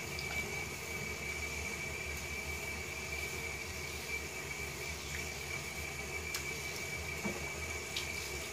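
Cold water runs steadily from a tap while a kinky curly wig is rinsed under it, a constant close hiss with faint splashes and no talking.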